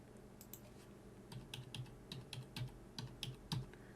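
Typing on a computer keyboard while entering a number into tax software, a quick run of soft, uneven keystrokes that starts sparse and speeds up, close and fairly quiet, with no talking.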